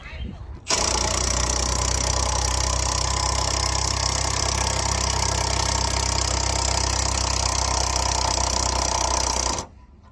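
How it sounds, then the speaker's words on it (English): A Milwaukee impact wrench with a 7/8 socket removes lug nuts from a 2021 Chevy Traverse wheel in one loud, continuous mechanical whir and rattle that starts abruptly and stops abruptly near the end. "I'm going to use my Milwaukee Impact and a 7/8 socket, just to kind of speed up this process a little bit"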